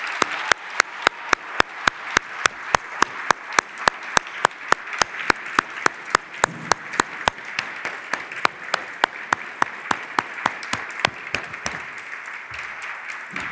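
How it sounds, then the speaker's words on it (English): Crisp, steady clapping from a conference audience welcoming a staff member to the stage, a fast even run of distinct claps lasting over ten seconds at moderate level, without talk. "Please give a round of applause."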